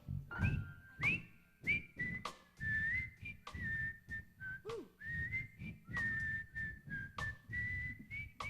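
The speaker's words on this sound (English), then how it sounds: "Come on, whistle for me now" A single melodic whistle carries a tune in short phrases at a concert performance, fairly faint and intimate rather than a crowd, with brief pauses between notes.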